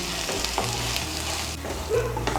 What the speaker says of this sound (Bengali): মিশিয়ে নিয়ে কুমড়োর জলটা শুকিয়ে যাওয়া পর্যন্ত রান্না করে নেব।